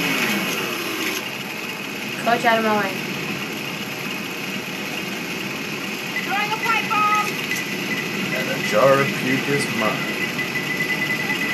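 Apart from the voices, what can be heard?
chainsaw running in video game Left 4 Dead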